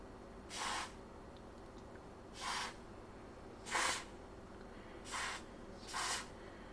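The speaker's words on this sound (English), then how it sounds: "Let's see if anything changes when I spray some stuff." Freeze spray aerosol is squirted onto a Racal-Dana 9918 UHF frequency counter circuit board in five short, faint hissing bursts at irregular intervals, with quiet pauses between and no talk.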